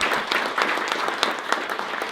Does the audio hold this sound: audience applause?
yes